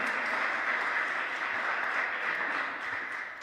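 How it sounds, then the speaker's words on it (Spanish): Congregation applauding during a church service, a steady wash of many hands clapping at moderate distance, even and sustained before easing slightly at the end. "Dele el aplauso al Señor"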